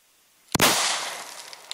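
A single sharp handgun shot cracks out at an outdoor shooting session, an abrupt loud report after near silence followed by a long decaying echo.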